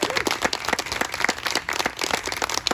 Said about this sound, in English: One more round of applause for William Andrews.